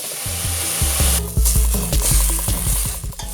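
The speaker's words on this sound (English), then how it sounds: "Okay, I'm going to saute this until the tomatoes break down." Onion, poblano pepper and tomatoes sauté in a pan. A steady sizzle runs underneath repeated scraping strokes of a spoon, close and fairly loud, with no talking.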